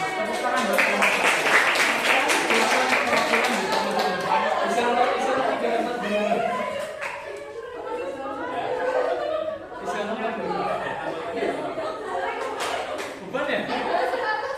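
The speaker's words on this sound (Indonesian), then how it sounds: "Tepuk tangan buat kelompok 1." A classroom of students applauds a winning group during a lesson game, a dense, sustained wash of clapping mixed with chatter and light laughter, easing slightly midway before swelling again.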